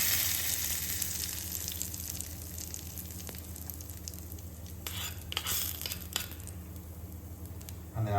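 Hot tempering of popped mustard seeds poured onto South Indian coconut chutney, giving a steady close sizzle with soft stirring and squishing noises and a few sharper crackles partway through.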